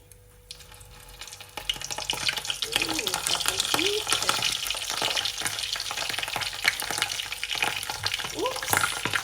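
Tuna lumpiang shanghai rolls frying in hot oil make a steady, loud sizzle with bubbling and occasional stirring. The crackle starts softer and then builds into a dense, continuous fry.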